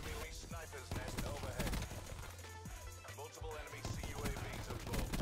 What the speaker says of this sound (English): And there's a sentry gun.